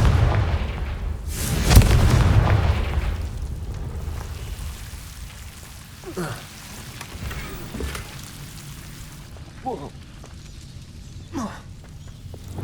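A Confringo explosion spell in Hogwarts Legacy detonates with a deep, rumbling boom early on, followed by quieter crackling and a few sharp impact bursts.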